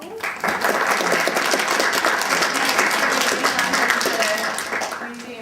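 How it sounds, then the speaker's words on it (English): An audience in a museum presentation hall breaks into sustained applause after a mathematician is introduced, dense clapping that fills the room loudly and then tapers slightly, with a voice faintly audible underneath. "Round of applause."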